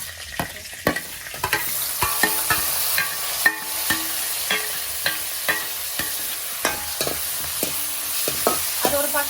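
Shallots and fennel seeds sautéing in a pan for mutton chukka, a steady close sizzle broken by regular scraping stirs of a spoon through the mixture, with no talking.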